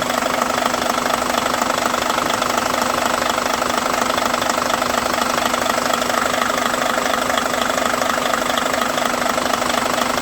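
A steady, loud bus engine idles without pause, a constant rumbling drone with a slight knocking texture and no voices, from a Daewoo New Granbird 45-seat coach fitted with a retarder.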